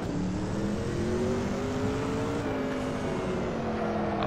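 A Mercedes Sauber C9 race car engine in the racing game Assetto Corsa drones steadily at high revs, pitch shifting slightly as it changes gear. The sound is continuous and even, with no speech.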